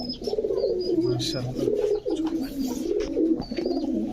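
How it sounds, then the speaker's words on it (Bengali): A male pigeon with a white beak coos repeatedly in low, rolling phrases at a pigeon seller's stall, close and steady, with faint voices in the background. "দর্শক এটা নর কবুতর"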